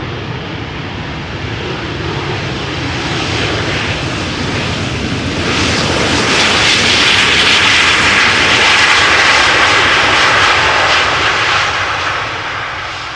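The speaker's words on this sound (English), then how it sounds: "Boeing 737-800 that is arriving from Oslo" A 16-year-old Boeing 737-800 arriving at Amsterdam Schiphol Airport from Oslo gives a loud, continuous engine roar that builds midway and stays strong as it passes close by.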